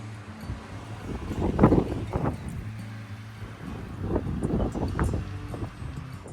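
Gusty wind on the windy side of Ifach mountain in Calpe buffets the microphone in surges, rising and falling with rough low roaring bursts against a constant outdoor rush.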